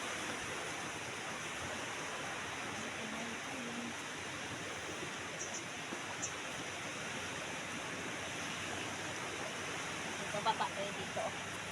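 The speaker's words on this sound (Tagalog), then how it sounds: "Tingnan mo yung yung baybayin, na ganda ng alon." Ocean waves wash steadily onto a seashore beside a forest, a continuous broadband surf roar with no distinct breaks, moderately loud and unbroken throughout.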